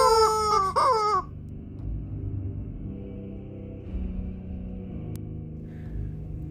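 A chicken in an animation lets out one loud crow right at the start, followed by quiet low background rumble.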